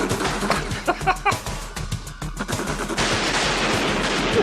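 Burst of gunfire from a played clip, rapid repeated shots in clusters with loud broadband cracks, followed by a sustained noisy wash of sound; a voice is faintly present underneath.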